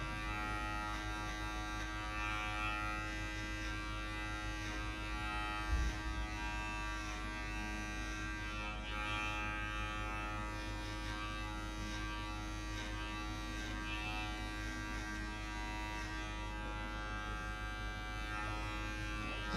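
Electric hair clipper cutting a girl's hair for a skin fade at a barber: a steady, continuous close mechanical buzz with a strong hum, running unbroken for the whole stretch with faint variations as it moves through hair.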